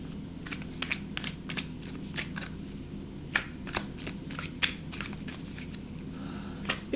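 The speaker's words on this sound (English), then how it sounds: "Let's shuffle this deck here a little bit." A tarot card deck is shuffled by hand up close, with soft, continuous riffling and flicking and sharper card snaps scattered throughout, with no talking.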